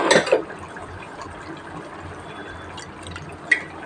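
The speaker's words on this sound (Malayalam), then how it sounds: "അത്യാവശ്യം കൂടി വെള്ളം ഒഴിച്ച് കൊടുക്കാം" A brief splash of water poured into a pot of roasted-coconut chicken curry at the start, followed by a quiet simmering hiss and a faint clink near the end.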